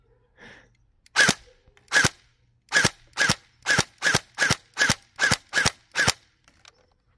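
Gel blaster firing single shots: a dozen sharp, loud snapping pops, two early and then a quick regular string of ten, close and dry against near silence.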